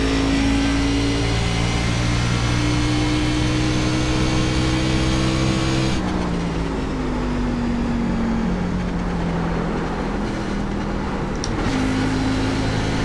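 A Fixed B-Class race car engine in iRacing at Gateway drones loudly and steadily, its pitch climbing, dropping at an upshift around midway, then rising again before another shift near the end, with no voices.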